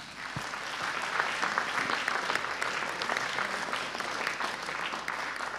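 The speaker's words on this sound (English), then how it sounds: "So everyone, give yourselves an applause." An audience at a general election hustings in Derby claps steadily, a dense, even wash of applause that lasts throughout at moderate distance.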